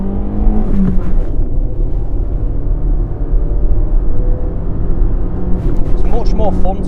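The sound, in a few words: Peugeot 206 car engine while driving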